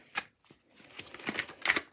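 Oracle cards being shuffled by hand, a few quick crisp riffling bursts close up, growing busier toward the end, with no talking.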